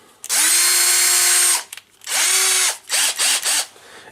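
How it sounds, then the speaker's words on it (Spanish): A drill driver with a 10 mm bit whirs loudly in a long burst into a plastic box, then a second run, followed by several short quick pulses as it bites into the plastic. "Broca de 10 milímetros, taladro atornillador."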